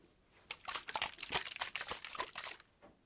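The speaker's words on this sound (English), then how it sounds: "Water. Liquid." Liquid and water sounds made close up for an ASMR sound test, a quiet run of crinkly splashes and trickles lasting a few seconds.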